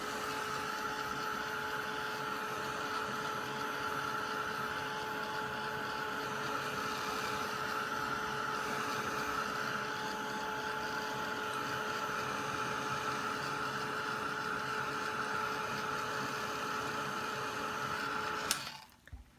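A heat tool blows steadily while drying a Tim Holtz Distress Crayon background, making a constant whirring hum with a fixed tone that runs unbroken for nearly twenty seconds before stopping abruptly with a click.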